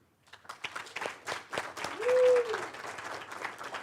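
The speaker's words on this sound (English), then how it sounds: "please give a warm welcome and a round of applause for Captain Chase and Rappaport" Audience applause welcoming two speakers, Captain Chase and Rappaport, at a talk about Arctic voyages aboard the schooner Bowdoin; scattered clapping builds from a few hands into fuller applause, with a brief tonal whistle partway through.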